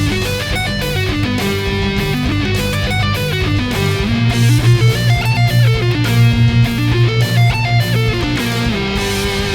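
Electric guitar plays a major seventh arpeggio in rapid sixteenth notes, the notes climbing and falling in steady repeating patterns over a sustained low bass, with no talking.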